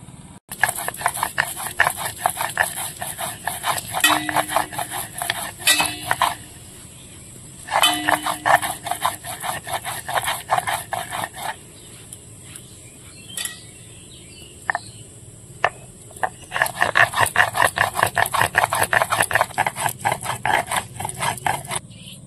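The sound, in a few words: grinding ginger, garlic and chili into paste on a stone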